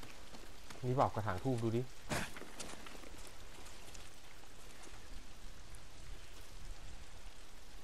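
Steady rain hiss falls in Ghost of Tsushima, a broadband wash that runs throughout and continues alone after a brief voice near the start.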